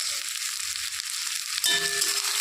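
Chopped onion tipped into hot oil for a chana dal dish, with a steady hiss that swells into a louder sizzle as the onion hits the pan, close and without voices.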